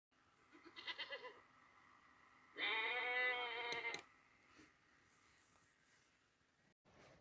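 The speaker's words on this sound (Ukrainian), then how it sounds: "Так, дітки, звичайно, це коза." A goat bleats twice, a short wavering call followed by a louder, longer quavering bleat, close by with quiet around it.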